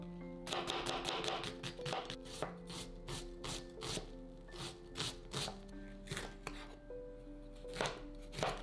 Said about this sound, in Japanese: にんにくはみじん切り、きのこ、玉ねぎ、パプリカは粗いみじん切りにします。